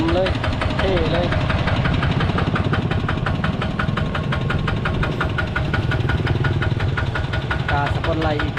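A brand-new car's engine idles steadily and close by, a continuous rumble with rapid regular pulsing throughout, with some faint voice-like tones over the top.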